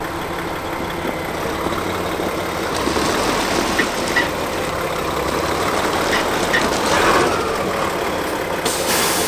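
Road traffic passes near a large concrete tank by the roadside, trucks and buses among it, a steady loud engine rumble with idling and an air-brake hiss, no voices.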